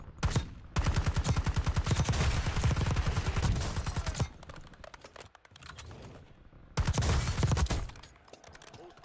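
Rapid automatic fire from a Model L rifle in Call of Duty Warzone battle royale, two loud sustained bursts of closely spaced shots separated by a quieter stretch of game ambience, with no talking.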